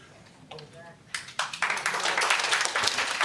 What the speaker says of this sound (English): Hold the clapping, please.